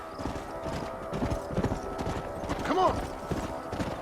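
Horses walk in the video game Red Dead Redemption, hooves clip-clopping in a steady close rhythm over a low rumble, with a brief whinny partway through and a short spoken line over it.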